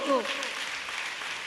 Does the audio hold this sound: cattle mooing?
no